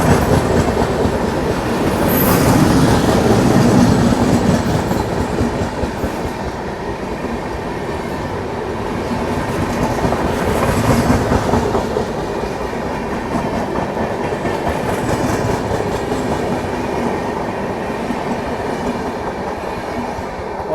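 The Sachkhand Express passing close by on the adjacent line, a continuous loud rumble of rolling wagons with rhythmic clickety-clack and brief wheel squeal, heard from a neighbouring train.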